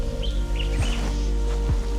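Small birds chirp in short, scattered calls near a mango tree outdoors, moderately close, over a steady low hum of background noise.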